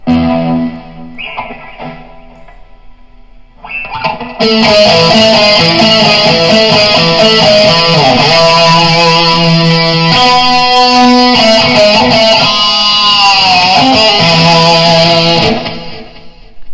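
A distorted electric guitar riff rings out loud and sustained for about ten seconds, following quieter, cleaner notes at the start.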